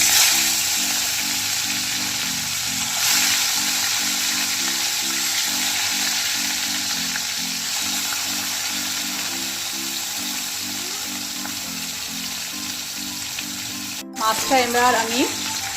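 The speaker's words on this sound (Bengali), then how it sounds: "এবার আমি মাছগুলো কড়াইয়ে দিয়ে দেব।" Pieces of rohu fish fry in well-heated mustard oil in a wok, giving a strong, continuous hissing sizzle. A soft musical backing plays underneath, and a brief voice breaks in at the end.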